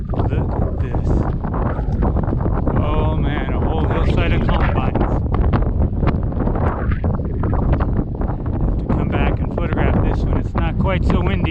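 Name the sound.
strong wind outdoors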